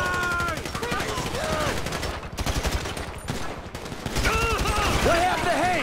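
A Grand Theft Auto 5 shootout fills the air with dense, continuous bursts of gunfire, while characters shout over the shots.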